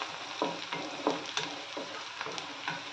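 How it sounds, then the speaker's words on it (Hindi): Chopped onions fry in a pan until brown, with a steady sizzle and regular spoon scrapes across the pan, close and moderately quiet. "प्याजों को ब्राउन होने तक हम भून लेंगे।"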